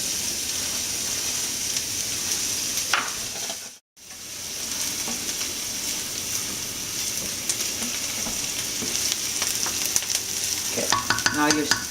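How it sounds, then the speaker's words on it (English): Onions fry in olive oil in a hot pan for a pizza sauce. A steady, close, crackling sizzle carries on with stirring scrapes, a brief dropout near the start, then busier crackles toward the end. "Make sure your pan is hot before you put the onions."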